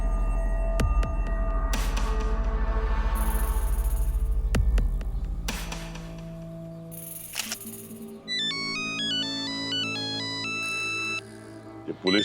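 A mobile phone rings with an incoming call, first a low buzzing vibration with clicks, then a bright electronic ringtone melody that repeats several times until cut off.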